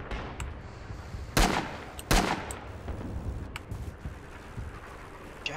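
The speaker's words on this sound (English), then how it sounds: "Japanese machine guns are so weird." Japanese machine gun fire in the WWII shooter Rising Storm on Iwo Jima, two sharp loud bursts standing out over distant scattered gunfire and wind.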